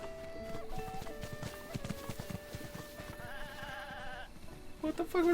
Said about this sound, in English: This goat just running by?